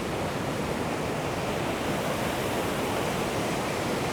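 Waterfalls at Lake Tahoe heard from their foot, a steady, even rush of falling water, soft and continuous like broadband noise, with no voices.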